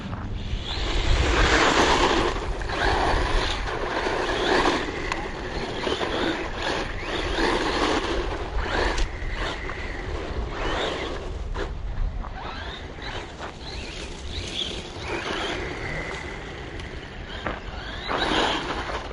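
Bezgar HP161S 3S brushless RC car running under throttle, a steady loud whir mixed with rushing wind and rough rumbling across the whole stretch, continuous with no voices.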